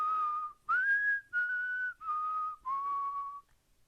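A person whistles a song melody straight and plain, five clear sustained notes with short gaps between them, close and alone in a quiet room.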